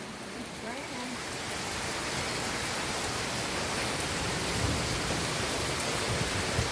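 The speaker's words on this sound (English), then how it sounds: "And how much it's raining." Steady heavy rain pours on a house with rain gutters, a dense continuous hiss that holds even throughout and swells slightly toward the end, with faint voices in the background.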